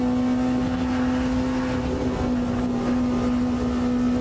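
A hypercar engine in the racing sim Le Mans Ultimate drones loudly and steadily throughout, a sustained, even hum with no gaps and no voices.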